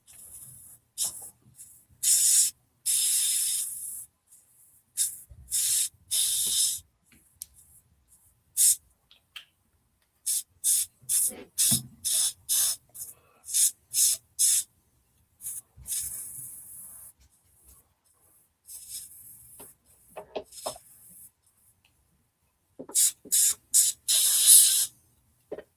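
An airbrush sprays paint inside the hatch of a Panzer model kit in repeated short hissing bursts, some brief and some lasting a couple of seconds, separated by silent pauses, close-up with no talking.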